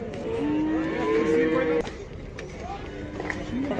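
Bull calves at a Taraz cattle market, with long low mooing calls rising above a busy background of people talking, a sharp knock partway through, then more distant lowing.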